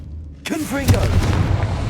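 The Confringo explosive spell fires in Hogwarts Legacy, a sudden booming blast after near silence, followed by a ringing rumble that fades over a second, with a voice briefly heard underneath.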